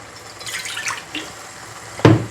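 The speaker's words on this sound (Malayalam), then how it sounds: "അതിനകത്ത് ഒരു സ്വല്പം വെള്ളം ഞാൻ ഒഴിക്കുവാണേ" Water is poured briefly into a pot of fenugreek seed curry masala, a short splashing trickle, followed by a sharp thud of the pot being set down.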